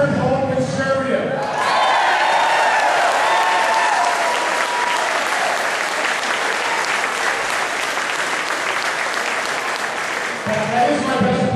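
A crowd applauds a Senate candidate's campaign speech in Wisconsin, loud sustained clapping that swells in after a voice and fades as he resumes talking near the end.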